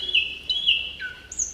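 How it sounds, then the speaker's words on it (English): Recorded thrush nightingale song played back from the Collins Bird Guide app: clear, high whistled notes and rising phrases in a short sequence over a quiet background. "thrush nightingale song"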